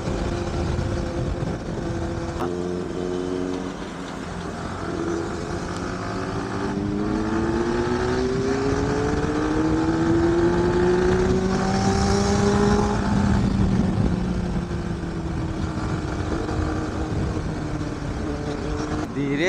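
A Benelli 600i motorcycle roars along a road, its loud, steady exhaust note climbing and falling in pitch as it accelerates and eases off throughout.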